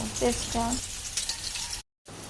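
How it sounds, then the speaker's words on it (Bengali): Chopped onions and cumin seeds fry in oil in a kadai, giving a soft, steady sizzle with a couple of brief stirring clinks, heard close and quiet before a short cut to silence. "কড়াইতে একটু তেল দিয়ে জিরে ফোড়ন দিয়ে একটু পেঁয়াজ কুচি দিয়ে হালকা গোল্ডেন কালার মতন ভেজে নেব"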